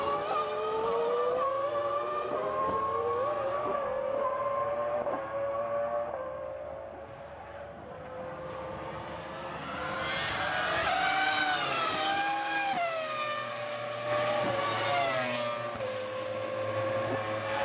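Formula 1 race cars from the 2000 San Marino Grand Prix at Imola scream past, with loud, high-pitched engine whine rising and falling in pitch as they go by, swelling toward the end.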